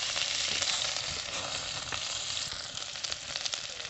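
Crushed ginger and onions frying in a pan over a cooking fire in a forest, a dense steady sizzle with light crackles and stirring scrapes close by, no talking.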